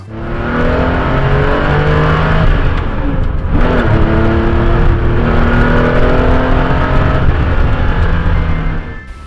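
A Porsche Carrera RS race car engine roars loudly and up close, revving and rising in pitch through sustained acceleration with a harsh, howling exhaust note.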